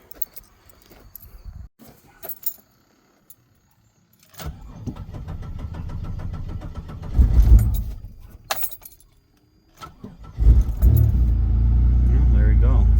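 An old W-body car cranks, fires up with a loud low rumble that surges, dips, then catches again and settles into a running engine, with keys jangling and some talk around it.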